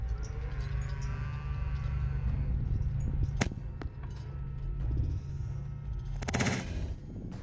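An FX Crown air rifle fires at a target 70 yards away: one sharp, snappy crack over a steady low background hum, with a brief faint follow-up tick and a later burst of hissing noise.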